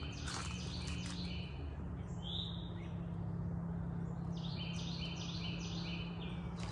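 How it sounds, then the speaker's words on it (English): Small birds chirp and tweet in the woods, repeated short calls at moderate distance over a steady low background hum and hiss. "you can hear the birds."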